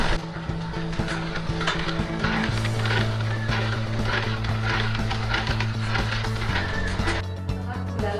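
Rhythmic scraping and clacking of a utensil stirring granulated sugar in a pot until it dissolves, for seaweed syrup, close and fairly loud, over a steady low background hum.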